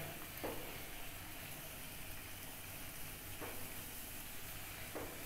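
Veg momo balls frying in a pan over a gas stove, a steady, soft, broadband sizzle that holds unchanged throughout, with a few faint clicks or taps from cookware, quiet and with no talking.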